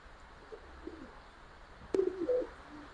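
Giribaz pigeons at a breeding farm give a short low coo near the end, a brief throaty burst after about two seconds of quiet room noise, with no voices present.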